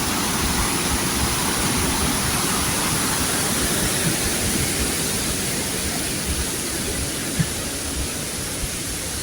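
A waterfall at Mousala in northern Iran, swollen by rainwater, roars in a steady, loud, unbroken rush close by, with no voices over it.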